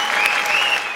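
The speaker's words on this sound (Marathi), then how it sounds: "तुम्हीच एकदा जोरदार टाळ्या वाजवा." Studio audience on a Marathi comedy show clapping hard, a dense, even wash of applause filling the whole second with no break.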